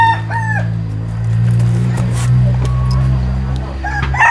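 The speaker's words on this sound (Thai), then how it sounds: "เสียงขันแตกโคบๆอยู่" A rooster crows nearby with a hoarse, cracked call, then starts again a few seconds later over a low droning hum.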